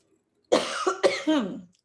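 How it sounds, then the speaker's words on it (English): A single person coughs a few times in quick succession, close and fairly loud, with nothing else around it. "I have a little bit of a cough."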